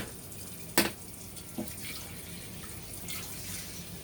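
A wok washed with a sponge under running tap water, heard as a faint steady trickle with a sharp clatter and a smaller knock of the pan against the sink.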